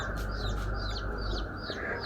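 A hen clucking and squawking repeatedly in quick chirpy bursts, close by over a steady low rumble of background noise, with no speech.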